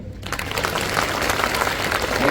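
Audience applause at a college statue unveiling and garden inauguration, a steady patter of many hands clapping throughout, moderately loud and sustained without voices on top.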